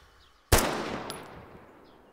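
Gunfire from the military shooter Arma 3: a single sharp, loud shot bursts out after a short quiet, followed by a long fading echoing tail, with no voices.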